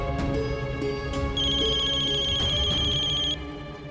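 A telephone ringing with a bright electronic tone, sounding as a short chirp, then a brief burst, then a long sustained ring of about two seconds that cuts off, loud and close over a steady background.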